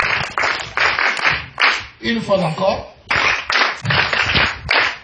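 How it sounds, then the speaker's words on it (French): A church congregation at a sermon claps in bursts of sharp, loud, close handclaps, pausing briefly while someone speaks, then resuming in rhythmic rounds. "Applaudissez pour vous-même."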